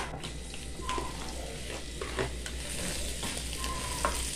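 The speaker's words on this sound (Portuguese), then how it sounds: "E aqui eu vou fritar todos esses legumezinhos aqui. Vou refogar junto dos dois dentes de alho." Vegetables fry with two garlic cloves in olive oil, a soft, steady sizzle with occasional spoon scrapes and light clinks, quiet and close.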